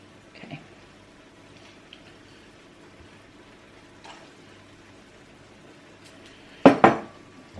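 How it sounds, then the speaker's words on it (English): Noodles being served into bowls in a home kitchen, a mostly quiet scene with faint clinks, then a sharp, loud clatter of utensils against a bowl near the end. "now serve the noodles out into each bowl"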